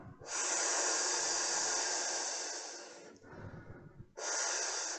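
A long, steady breath exhaled with a soft rushing hiss, fading over a few seconds, followed by a brief pause and the start of another breath.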